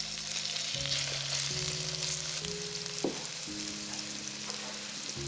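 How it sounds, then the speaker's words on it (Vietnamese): Green banana stir-frying in a pan for a vegetarian braised vegetable dish, a close, steady sizzle with light stirring, over a low tonal hum from the stove. "Xào chuối khoảng 1 phút."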